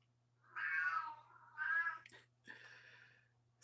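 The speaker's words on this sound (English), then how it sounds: "my cat made me nervous because he meowed" A cat meows three times in a quiet room: two long, drawn-out calls and then a shorter one, close and clear, with a faint steady hum underneath.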